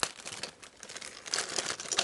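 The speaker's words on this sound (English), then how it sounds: "We'll open up plastic, which probably hasn't been opened before." Fresh plastic packaging around a Jr. Scientist tumbling robot toy is torn open and crinkled, a close, loud, continuous crackling rustle with no talking.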